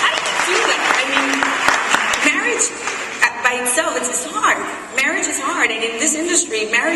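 An interview audience breaks into applause; the clapping patters beneath a voice talking over it, rising and falling in uneven bursts throughout.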